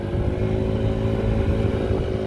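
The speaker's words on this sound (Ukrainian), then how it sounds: "скутер максимально устойчивий на швидкості." A Yamaha Gear cargo scooter imported from Japan, fuel-injected, hums steadily and close while riding at speed, giving an even engine drone mixed with road and wind noise and no voices.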